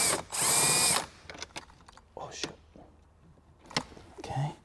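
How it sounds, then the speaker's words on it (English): A power tool spins out a 10mm bolt inside a 2018-2023 Lexus LC500, one short loud whir at the start followed by quieter clicks and handling noises, with soft talk. "let's remove that 10mm bolt"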